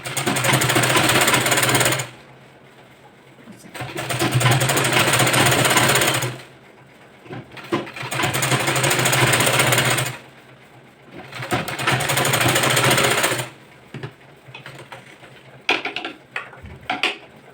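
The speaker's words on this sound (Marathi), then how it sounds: "याला परत दाब शिलाई टाकून आतमध्ये फोल्ड करून घ्यायचं." A sewing machine stitches a boat neck blouse in four loud, rapid runs of several seconds each, separated by short pauses, ending with lighter clicks and handling noises.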